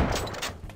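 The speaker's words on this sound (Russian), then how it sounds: "Так, а обычный выстрел?" A regular shot from a black hole weapon mod in Garry's Mod, a single short, loud gunfire-like blast that fades quickly.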